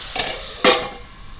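Broad bean seeds frying in a pan, with two quick scraping stir strokes over a steady, loud sizzle.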